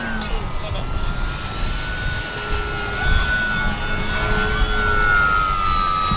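Arrows Bigfoot RC airplane flying a knife-edge pass in windy conditions, its steady engine drone continuous and moderately loud throughout, with broadband wind noise underneath.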